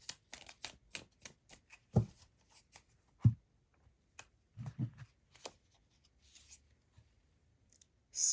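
Tarot cards being shuffled by hand, a series of soft riffling slaps and taps in an irregular rhythm, close and quiet with pauses between bursts.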